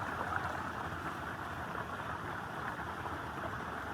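Water pouring steadily from an electric motor pump in a village farm setting, a continuous broadband rush with no breaks, moderately loud and close, with no talking.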